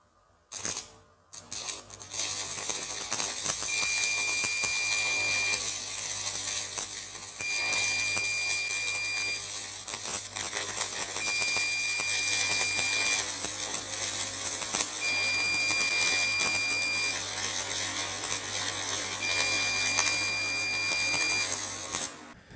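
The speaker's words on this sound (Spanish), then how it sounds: "¿Qué significa esa alarma que acabó de sonar ahí cuando yo estaba soldando?" A solar charge controller sounds its low-battery alarm during welding on a 150-amp setup: evenly spaced electronic beeps repeat across the stretch over a constant loud electrical buzz, with no voices.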